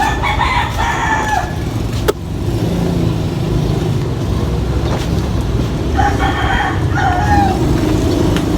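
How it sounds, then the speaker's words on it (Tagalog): Chickens and a rooster nearby, with loud crowing calls at the start and again near the end over a constant rumble of passing road traffic. "di ba ang dami yung naririnig na manok?"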